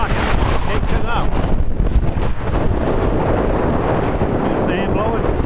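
A strong gust of wind on a beach buffets the microphone with loud, continuous roaring rumble that fills the whole stretch, steady and close with no voices.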